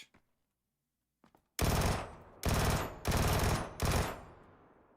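Gunfire from the video game Fallout 4 as vending machines are shot, four loud sustained bursts of rapid automatic fire in close succession after a near-silent start.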